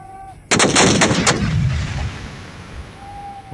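Bangladesh Army soldiers firing large weapons: a single massive boom, loud and close, followed by a rapid cluster of cracks and a long rumbling decay trailing away outdoors.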